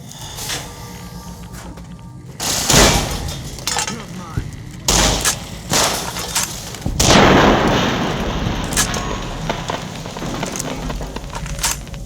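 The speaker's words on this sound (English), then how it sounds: "Firing weapons." Guns and artillery-like blasts fire in Fallout: New Vegas, with loud bursts that come in uneven volleys over steady game background and music.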